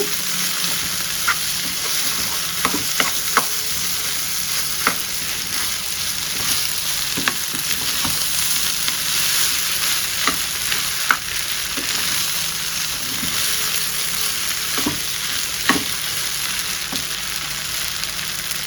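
Schezwan fried rice made with chicken pickle is stirred and tossed in a hot pan, a steady loud sizzle running throughout with repeated sharp scrapes and clacks of the spatula against the metal, no talking.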